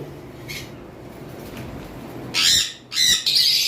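Caged lovebirds on a farm give loud, harsh squawks in two bursts near the end, after a quieter stretch of faint background noise.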